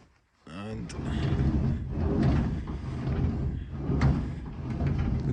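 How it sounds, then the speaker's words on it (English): The repaired sliding side door of a VW T4 van rolls along its rebuilt runner with a steady, continuous rumbling glide lasting several seconds, loud and close, with a brief clack at the start. "looks to be running nice and smooth"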